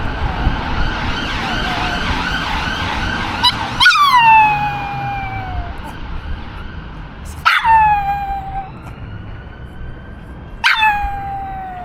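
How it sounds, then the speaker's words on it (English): Emergency vehicle sirens sound as three separate wailing tones, each rising sharply and then sliding downward, over steady background noise. "hey, listen, Sirens"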